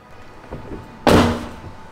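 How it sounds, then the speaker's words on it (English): A Tesla Model Y car door swings shut with a single solid thunk, close and fairly loud, after a couple of faint soft knocks, then a short fading rattle and hush. "Now we just have to close the door"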